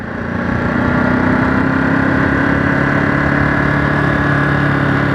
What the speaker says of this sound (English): So I'm just starting this bike off in wet mode at the moment